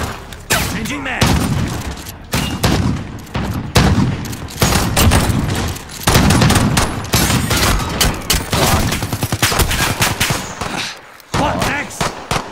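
Gunfire in a survival shooter game: dense, loud bursts of automatic fire and single shots crackle almost continuously, with brief pauses and occasional booms.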